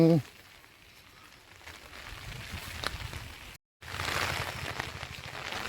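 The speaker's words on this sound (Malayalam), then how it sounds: "നല്ല മഴയും പെയ്യുന്നുണ്ട് കേട്ടോ" Soft, continuous patter of monsoon rain falling outdoors in rural Idukki, Kerala, steady and moderately distant, briefly cut off near the end before resuming.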